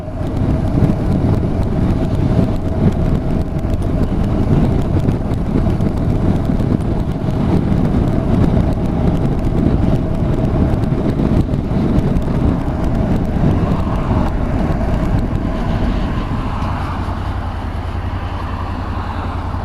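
Honda NC750X motorcycle with DCT automatic gearbox riding along, engine working at low revs and shifting through the gears, heard as a steady, loud low drone buried in strong wind rush with no clear talk.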